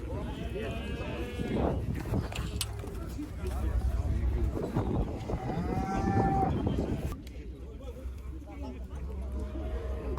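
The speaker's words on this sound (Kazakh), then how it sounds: "Бұқа." Cattle lowing at a busy Kyzylorda livestock bazaar, a bull among them, with several long moos rising over a constant crowd murmur and nearby voices of traders talking.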